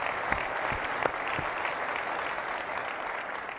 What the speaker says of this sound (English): A round of applause for Doug Cossa, please.